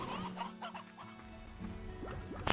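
Chickens in the farming game Slime Rancher clucking in several short, quick bursts over a low background hum, fairly close, with a sharper squawk at the end.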